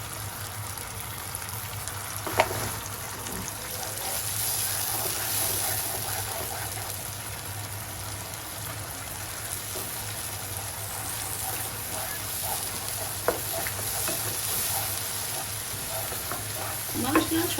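Hand-ground spice paste with turmeric and coriander frying in a pan for a goat liver curry, a steady dense sizzle throughout with occasional sharp clicks of a spoon stirring, close and continuous with no talk.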